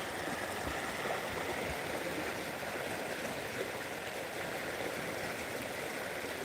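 Strong flowing water from a flooding river with waves, heard as a steady broadband rushing and churning roar that holds constant throughout, moderately distant with no voices.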